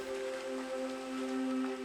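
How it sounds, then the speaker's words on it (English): Tropical rain falls steadily in the Daintree rainforest, a soft continuous hiss of drops on leaves and surfaces throughout, with a faint steady tonal hum running underneath. "forming more clouds, which release their moisture as more rain"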